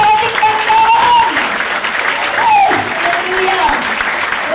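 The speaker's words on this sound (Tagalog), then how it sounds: "Malakas na palakpak para sa ating Panginoon" Loud, sustained applause from a church congregation welcoming visitors during a worship service, steady clapping throughout with voices and cheers mixed in.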